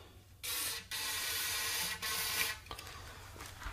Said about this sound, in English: And we're going to spray down the barrel.